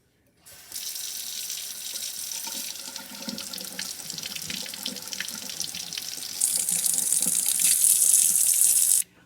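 Steady warm water pours from a tap into a kitchen sink, a continuous splashing hiss that grows louder and brighter near the end before stopping.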